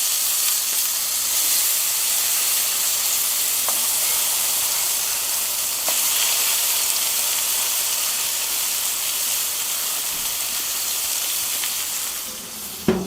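Eggplant fries in a hot pan, a steady loud sizzling hiss that continues throughout with a few faint clicks and a brief knock at the end.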